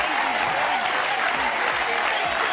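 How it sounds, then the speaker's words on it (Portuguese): A TV show studio audience applauds Pelé, a dense, steady clapping that stays loud and even throughout, with faint crowd murmur underneath. "Pra levantar a plateia, pra bater palma pro Pelé, ele merece."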